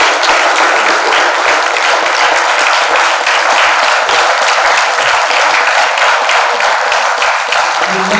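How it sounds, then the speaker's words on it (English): Loud, sustained applause from an audience at a college startup pitch event, many hands clapping in a thick continuous roar that holds at full strength for several seconds. "a big round of applause to all of us"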